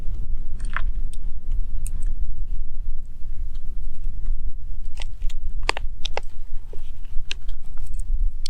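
Crunchy granola cereal with milk and blueberries being chewed up close, a steady run of crisp crunches and bites with irregular clicky snaps, no talking.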